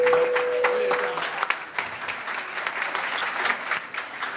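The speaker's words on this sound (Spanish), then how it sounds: "Un aplauso para ustedes." An audience in a journalism lecture hall applauds a group of standing students, with dense, sustained clapping that stays loud throughout before thinning slightly at the end.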